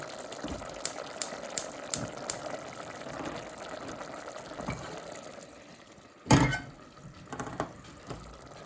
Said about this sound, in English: It's been boiling for about 10 minutes, so I'm going to put it onto simmer now.